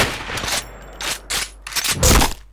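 Rapid bursts of video game gunfire crack out loud and close in several quick strings with short gaps between them, the final burst the heaviest.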